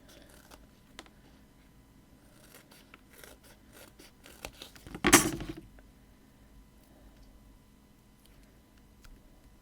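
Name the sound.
scissors cutting thin foam pads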